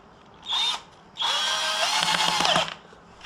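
A power drill drives screws while an easel is assembled: a short whining burst, a pause, then a longer high-pitched whir that bogs slightly before stopping, close and loud with no talk.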